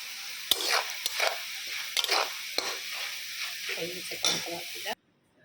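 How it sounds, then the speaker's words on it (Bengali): Potatoes fry in a home kitchen pan with steady sizzling, several sharp utensil clicks and stirring scrapes scattered through, then the sound cuts off abruptly near the end. "আলুটা ভাজা হয়ে গেছে, নামিয়ে দেবো।"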